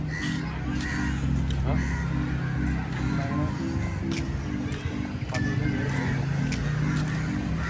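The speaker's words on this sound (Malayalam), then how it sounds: "ആലുമരത്തിൽ നിറച്ചും കാക്കയാണ് ഇരിക്കുന്നത് കണ്ടോ" Many crows caw repeatedly from a nearby banyan tree over a steady hum of background noise and traffic.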